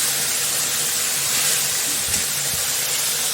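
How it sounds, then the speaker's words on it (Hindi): Dal being tempered in hot oil gives a loud, steady sizzling hiss that fills the clip, with a couple of faint low clatters near the end. "तो यहाँ पे मैं दाल को छौंक दी हूँ"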